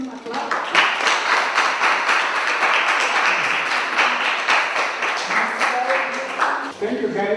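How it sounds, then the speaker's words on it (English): A class audience claps together for a speaker, steady sustained applause from many hands filling the room, fairly loud throughout and tapering off near the end. "give him a clap."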